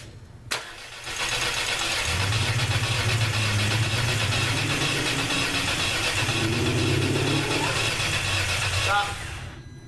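A Volkswagen MKVI GTI fitted with a new HPA intake manifold cranks briefly and fires up, then holds a steady, strong idle for several seconds before cutting off, with people talking nearby.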